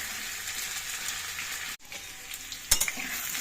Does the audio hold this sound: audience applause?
no